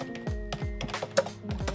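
Quick bursts of keystrokes on a computer keyboard, typed in short irregular runs, close and clear with no talking.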